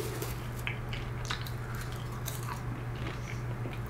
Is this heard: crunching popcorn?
yes